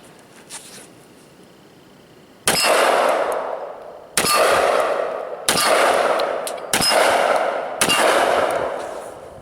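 A Mossberg 930 gas-operated semi-automatic shotgun fired five times in a steady string, each shot a sharp loud blast with a ringing decay, after a quiet start.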